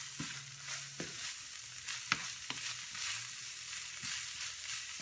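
Vegetables for a BBQ baked bean casserole sizzle quietly in a pan on a Silverback grill while being stirred, with soft scraping strokes and a few sharp utensil knocks over a steady low fry.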